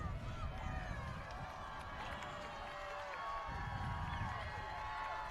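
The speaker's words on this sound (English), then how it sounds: "Crowd's getting into it a little bit here, trying to get something going" A football stadium crowd at a California (PA) versus Kutztown game makes a steady, distant roar of cheering and chatter, with a commentator talking over it.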